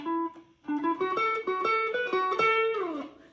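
Electric guitar lick from a solo as played 5/10/1978, a run of picked single notes with slides and a bend-like glide at the end, clear and alone.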